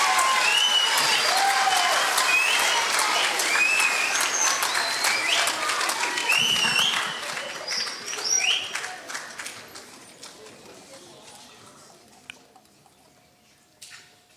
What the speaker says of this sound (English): Let's give a nice round of applause, please, for our newest band director here at Canfield High School, Mr. Anthony Bonamaze.